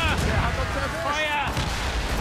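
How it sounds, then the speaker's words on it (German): Ship cannon fire from the naval combat in Assassin's Creed Rogue, heavy booming shots rumbling under a dense layer of game noise, with someone talking over it. "Ach, guck mal, habe ich die gleich versenkt mit einem Schuss."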